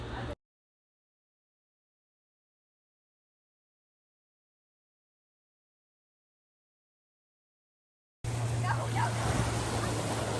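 Ocean waves wash onto Vero Beach at sunrise in a brief stretch of steady, rushing surf with wind buffeting the microphone, after a long silence.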